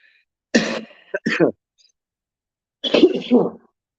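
Two short clusters of harsh smoker's coughing from unfiltered cigarettes, close and loud, separated by a brief silence.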